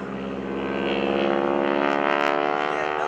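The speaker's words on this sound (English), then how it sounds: "600 Pratt & Whitney horses humming merrily away up front, and that prop just slapping the sky." A Pratt & Whitney-powered propeller airplane of about 600 horsepower pulls up into an airshow loop, its engine droning steadily and loud with the prop slapping the air, sustained throughout without a break.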